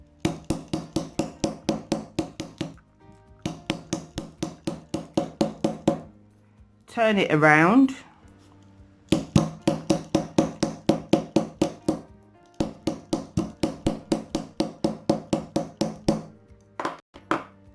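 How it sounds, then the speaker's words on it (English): Rapid, evenly spaced hammer blows ring out on metal in long bursts, pausing for a short scraping moment and a few spoken words. "I'm going to keep hammering it until it's nice and flat."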